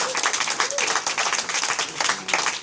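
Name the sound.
audience applause at a student protest meeting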